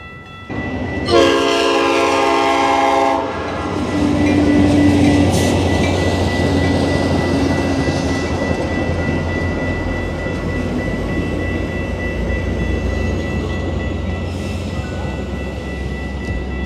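A train passes close by apartments near a station in Chicago, sounding a loud, sustained horn blast before the steady rumble and clatter of cars rolling past.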